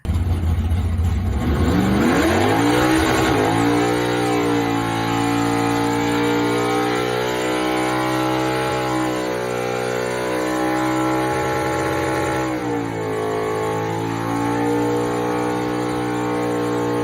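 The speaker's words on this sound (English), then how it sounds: "let's see if we can get another Burnout video to play here" A car doing a burnout, its engine revving hard and holding at high pitch with rising and falling harmonics, loud and continuous throughout.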